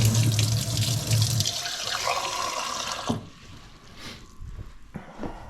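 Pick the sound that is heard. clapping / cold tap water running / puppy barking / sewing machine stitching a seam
cold tap water running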